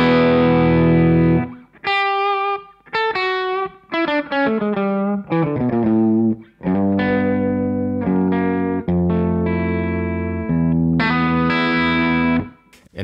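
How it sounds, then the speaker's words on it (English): ES335 guitar with humbucker pickups into a Revv D20 amplifier, a driven rock riff of crunchy chords and choppy stabs with short gaps between phrases, loud and up front with no voices. "the guitar into my Revv D20 sounds like this."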